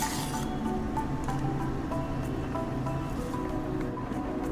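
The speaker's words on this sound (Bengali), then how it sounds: "জলটা দেখুন টকবক করে ফুটছে।" Water boils vigorously in a pot, ready for soaked Dehradun rice for Bangladeshi kacchi biryani. A faint, continuous bubbling hiss with small popping bursts.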